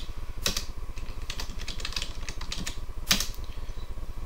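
Typing on a computer keyboard while setting a new password on a Raspberry Pi, with rapid, close, steady key clicks and two sharper strikes standing out.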